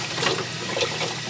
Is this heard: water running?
yes